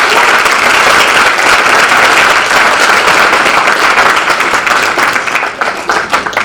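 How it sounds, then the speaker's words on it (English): Sustained, loud applause from a crowd at a college athletics awards ceremony, dense clapping holding steady before thinning slightly toward the end, with no talking over it. "let's give a round of applause for them as well"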